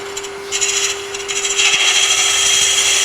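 A deep hollowing system cuts into a spinning wooden hollow form on a lathe, making a steady scraping rasp that grows louder partway through, over a constant motor hum.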